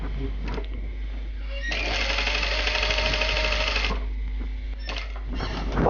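A sewing machine runs a line of stitching to fold fabric into pleats, with a loud rapid mechanical chatter in the middle and shorter bursts at the start and end, close up with no talking.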